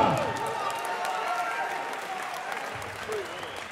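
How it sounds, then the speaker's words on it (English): A crowd at a kickboxing event applauds after a close fight, loud steady clapping with cheers and an announcer's voice audible over it, easing slightly toward the end. "Give a round of applause for CLAUDIO RICCA."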